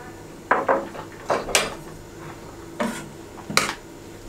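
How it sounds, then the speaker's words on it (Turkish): Green lentil soup cooking in a pot as a bowl of soup pasta is tipped in, several clattering knocks of bowl and utensil against metal, close and sharp, with quiet gaps between. "İçerisine şöyle bir kase çorbalık hamur atıyorum"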